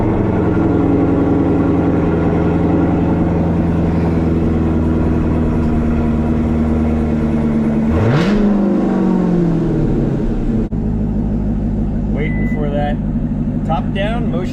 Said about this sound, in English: All right, time for a little cold start action.